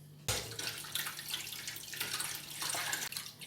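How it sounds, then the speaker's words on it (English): Cold tap water runs steadily into a kitchen sink, a continuous close splashing rush that starts abruptly and holds at a fairly even level throughout. "put cold water in the sink"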